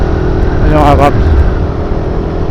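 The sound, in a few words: Suzuki Raider 150 carb motorcycle engine accelerating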